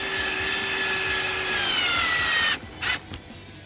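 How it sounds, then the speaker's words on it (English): A power drill drives screws into scrap wood panels: a steady, close, whining run lasting a couple of seconds, then a sudden stop followed by two short bursts. "right now I'm screwing the other panel that screws all the panels together"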